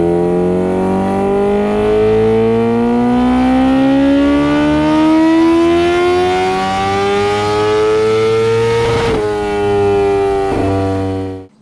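A Kawasaki H2R motorcycle on a dynamometer roars loud and close, its engine pitch climbing steadily through a long pull before a shift, then holding a high, piercing wail until it cuts off abruptly.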